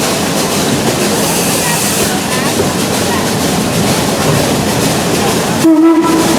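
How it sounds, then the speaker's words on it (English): A loud, continuous rushing hiss of steam venting from the pop valve of the steam locomotive Tuolumne at Roaring Camp & Big Trees railroad, cutting off abruptly near the end before a brief tonal sound. "That noise you just heard coming from the steam engine, by the way, that's called a pop valve"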